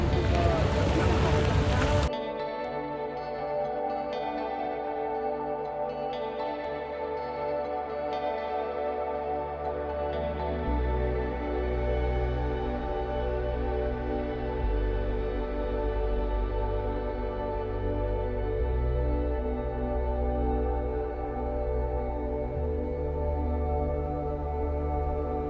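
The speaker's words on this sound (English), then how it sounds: "this is our speedboat" Speedboat running across the sea on an island tour off Thailand, its engine a continuous loud drone with shifting pitch steps and wind buffeting, after a short burst of noise at the start.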